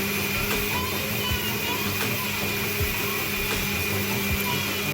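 Blender whirs steadily as it purees corn pieces with coconut milk for cornmeal pudding, a loud continuous motor drone with a high whine, close and unbroken.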